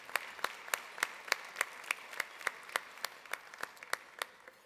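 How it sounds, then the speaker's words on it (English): Audience applause at the Manitoba Business Hall of Fame gala, heard as a faint, steady series of evenly spaced, crisp claps that keep a regular rhythm throughout. "Give her a round of applause."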